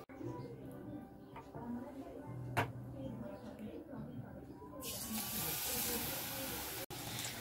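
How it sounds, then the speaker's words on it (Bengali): Fritters of arrowroot and flour batter with green chilli fry in hot oil, which spatters. A low murmur with one sharp pop gives way midway to a loud, steady, broad sizzling hiss that continues to the end. "আর তেল লঙ্কার দেখো দানা ফেটে আর চারিদিকে তেল ছিটকে গেছে"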